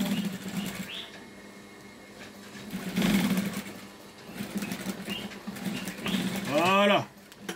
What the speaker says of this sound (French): Maintenant, avant de coudre, je vais placer mon talon. Je couds.